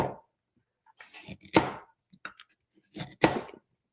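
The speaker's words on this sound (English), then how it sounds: "while Ella's chopping" Carrots being chopped on a board for homemade pickles at a pickle-making party: two short bursts of quick knife strokes, close and fairly quiet, separated by pauses.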